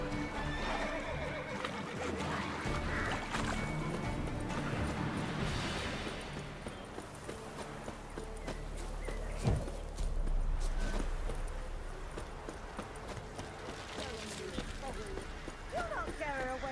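Horse in The Witcher 3 video game whinnying and neighing amid the clip-clop of hooves, with game music and character dialogue continuing over it throughout.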